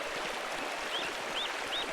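Waterfall fed by mountain snowmelt above an abbey in the game Pentiment: a steady broadband rush of flowing water fills the scene, with a few faint high chirps drifting over it.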